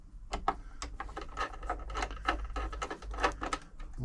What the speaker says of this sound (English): next thing to do is take the top off, which is just 2 screws by the handle